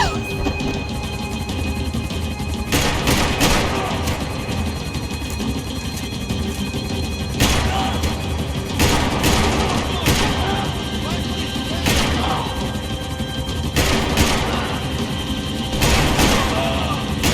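Video game gunfire from Max Payne 3, with repeated sharp bursts of shots cracking through a dense, loud action mix as voices shout over the chaos.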